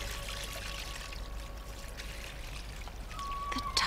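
Water pours and trickles steadily through a sieve, a continuous soft splashing stream at moderate distance with a faint tonal hum underneath and a brief brighter splash near the end.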